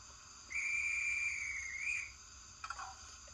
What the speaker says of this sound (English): Guard's whistle, number 16.